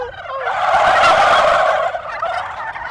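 Wild male turkeys gobble back in a loud, rapid, rattling burst lasting a couple of seconds, fairly close and outdoors, with no talking.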